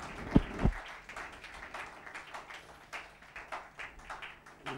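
A church congregation applauds, light scattered clapping at moderate distance after two louder knocks at the start, staying fairly faint throughout.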